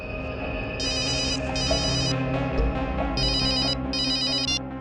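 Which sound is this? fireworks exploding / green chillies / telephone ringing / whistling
telephone ringing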